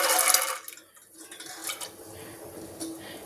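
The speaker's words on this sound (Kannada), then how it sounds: "ಒಂದು ಕುಕ್ಕರ್ಗೆ ಸ್ವಲ್ಪ ನೀರು ಹಾಕ್ಕೊತಾ ಇದ್ದೀನಿ" Water poured into a pressure cooker for boiling soaked chickpeas, a brief splashing pour at the start that fades into quieter dripping and light clinks.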